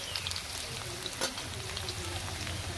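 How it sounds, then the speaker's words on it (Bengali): A steady, gentle hiss of potatoes frying in oil for a rohu fish curry, with small pops and crackles over the whole stretch and one brief sharper spit midway. "তো আমাদের আলুটা অলমোস্ট ভাজা হয়ে গেছে"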